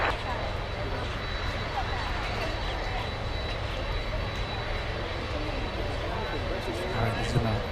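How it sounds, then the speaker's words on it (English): A Boeing 767 jet of ABX Air arriving at Miami International Airport during stormy weather gives a steady, distant engine roar, faint and continuous throughout, with a voice talking over it. "Next arrival we have is a 767 flying in from San Jose, Costa Rica, ABX Air"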